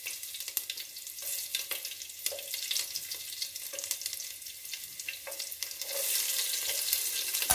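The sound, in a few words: chopped onions frying in a pan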